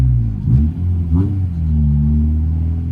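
A car with suspected worn wheel hubs pulls away from about 2000 RPM, its close, loud engine rumble rising in pitch twice in quick bursts before easing into a steady, even drone.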